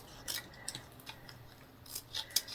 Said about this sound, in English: just cutting a piece of ribbon in half